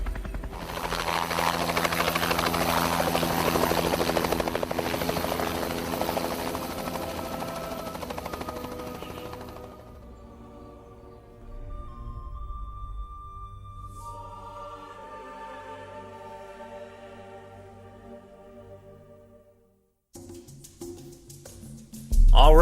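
A helicopter descends as a story sound effect, its loud, steady rotor thrum filling the first half, then fading to a quieter hum over several seconds before a brief silence and a sudden loud burst at the end.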